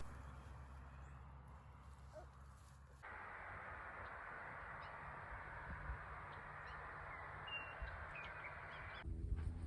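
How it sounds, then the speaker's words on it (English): Birds at a busy backyard feeder, with crow-like caws over a steady outdoor background hiss that lasts throughout, fairly distant and moderately loud. "Lots of birds coming in for a meal."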